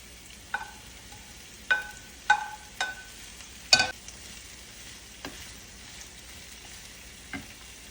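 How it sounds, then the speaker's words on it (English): Chopped onions hit hot oil in a pan, setting off a few short sizzling bursts and stirring scrapes at irregular intervals over a quiet background. "So the oil is hot, so now I'm going to add the onions."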